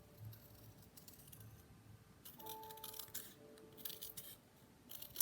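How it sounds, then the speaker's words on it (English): Scissors trimming the paper border of a handmade rustic greeting card, with quiet close snips and light crisp paper rustling in a calm room, no talking. "So I'm going to just trim a little bit of this off."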